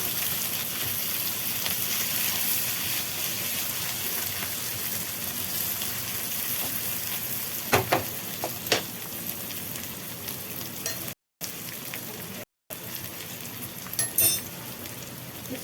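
Cut tamarind sautés in a pan for chutney, a soft, continuous frying sizzle with a few sharp clicks of stirring around the middle and two brief dropouts near the end.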